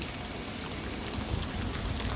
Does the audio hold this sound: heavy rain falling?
yes